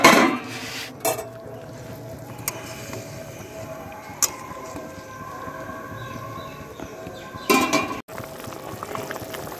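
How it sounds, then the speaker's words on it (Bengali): Paneer tikka masala gravy bubbles in a pot with a soft steady simmer, broken by a few sharp clinks and scrapes of a utensil against metal. "ঝোল ফুটে উঠেছে।"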